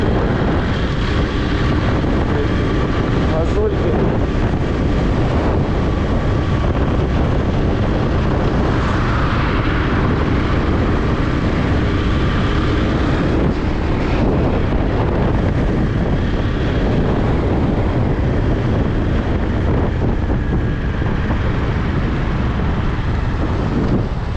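A Honda Cross Cub 110 scooter hums along on a short test ride, its engine drone buried under constant loud wind buffeting on the microphone in cold, blustery weather.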